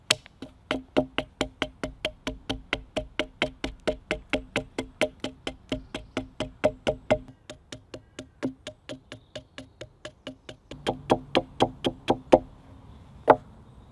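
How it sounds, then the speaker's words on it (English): Flint striking and scraping wood while carving a chisel end, heard as a long steady series of sharp, close knocks, roughly two to three per second, slowing and spacing out toward the end. "I'm going to use my flint and carve a chisel end onto it."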